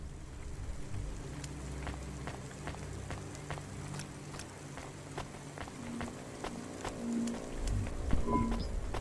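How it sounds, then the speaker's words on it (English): Steady rain falls in the city video game Cloudpunk, a soft continuous patter with scattered sharper drips over a low ambient drone and occasional tonal game sounds. "Don't let all the rain get you down."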